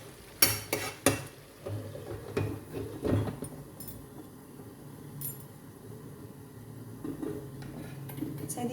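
Chicken stirred in a frying pan, a soft background sizzle broken by several sharp scraping and clinking hits of a utensil against the pan, busiest in the first few seconds.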